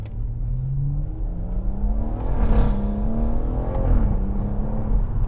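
A tuned BMW M140i on Super Sport front tyres accelerates hard. Its engine note climbs steadily in pitch over a loud, continuous, close road roar, with a brief shift-like dip partway through.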